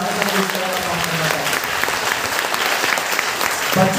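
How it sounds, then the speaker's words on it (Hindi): An audience at a talk or seminar breaks into loud, sustained applause, dense clapping filling the room for several seconds, with a voice briefly heard near the end. "ताली जोरदार बजा लीजिए।"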